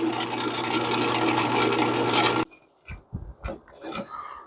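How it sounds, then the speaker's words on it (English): A steady, dense mechanical whir of a drill running continuously while drilling a hole in a NAPA Flate air compressor for a pressure switch upgrade, then it stops abruptly, leaving scattered light clicks and handling noises. "You're just drilling down into it."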